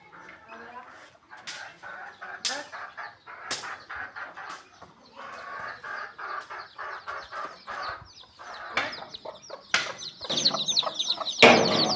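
Domestic chickens at a rural home cluck and squawk in a steady run of short, close calls that grow busier and louder toward the end, with a voice speaking faintly at times.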